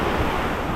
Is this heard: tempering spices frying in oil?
no